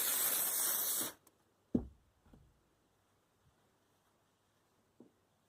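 Spray adhesive hisses from an aerosol can onto a small pineapple mini quilt, one loud steady burst of about a second, followed by a few faint taps and handling knocks in a quiet room.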